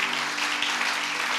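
A church congregation at a prayer-mountain gathering in Brazzaville claps and applauds in praise, a steady, dense wash of many hands close and continuous, with no voices over it.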